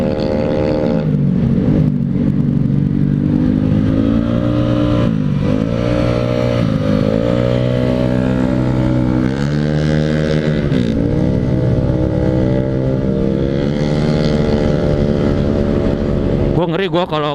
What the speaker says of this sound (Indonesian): Tuh denger aja tuh suara knalpotnya kayak begitu.